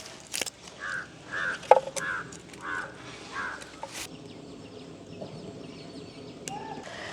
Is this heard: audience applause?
no